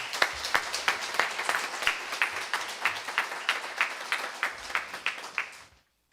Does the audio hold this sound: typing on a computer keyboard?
no